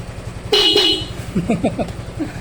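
A short, bright stock horn honk sounds from a Honda Fazzio scooter over its running engine, followed by brief murmured talk in the background.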